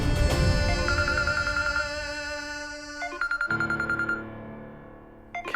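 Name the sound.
phone ringing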